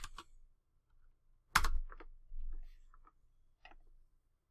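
Someone types a password on a computer keyboard in a quiet room: a few scattered, soft key clicks and taps, with one louder thump, all close and sparse.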